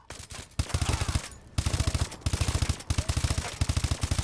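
Rapid automatic gunfire from Call of Duty: Advanced Warfare, loud and close, in repeated bursts of evenly spaced shots with brief pauses between them and no talking.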